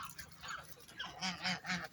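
A grey goose gives a run of honks, the calls growing stronger and more regular toward the end, heard alone at moderate distance.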